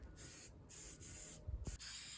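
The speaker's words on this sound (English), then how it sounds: "It comes in a spray can, which is really easy to apply." Rust converter hisses out of an aerosol spray can onto the underside of a truck bed in four short bursts, each a loud, close, airy spray with brief gaps between, the last the strongest.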